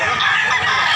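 A bullstag rooster and other fowl at a cockfighting market in Tabunok, Cebu make a brief burst of loud, overlapping crowing and clucking, dense and close.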